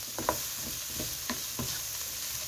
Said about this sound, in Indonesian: Kita masukin bumbunya, lalu kita campur lagi